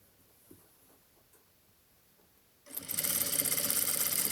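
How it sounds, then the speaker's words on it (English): A sewing machine starts after a quiet stretch and runs steadily, close and fairly loud, stitching a trouser seam 5 mm from the fabric edge. "go to the machine, and we're going to sew 5 mil from the edge."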